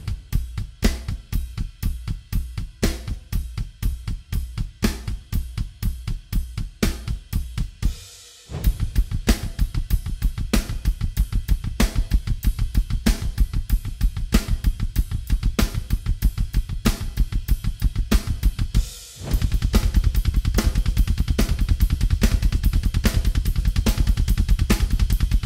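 Full drum kit playing a steady groove: ride cymbal in even eighth notes, snare backbeats and rapid double-kick sixteenth notes, loud and close with no talking, pausing briefly twice before resuming.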